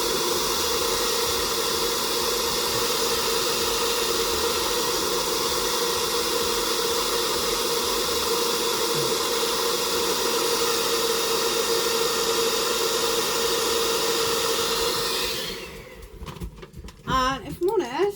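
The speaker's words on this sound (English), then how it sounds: "And back with a hairdryer." A hairdryer blows steadily and close, a loud continuous broadband whoosh held for about fifteen seconds, then cutting off into quieter handling sounds at the end.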